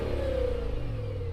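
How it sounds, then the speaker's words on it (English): Close, loud engine note from an Audi RS6 with a Lamborghini-derived twin-turbo V10, held at a steady rev with a deep rumble and slightly shifting pitch over a brief moment. "So I'm going to rev up this engine,"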